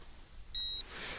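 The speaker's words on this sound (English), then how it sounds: "then we get a beep to tell us that it's going into the Y axis" An Eachine E511s foldable drone gives a single clear, high electronic beep lasting about a quarter second during compass calibration, heard close up over quiet outdoor background noise.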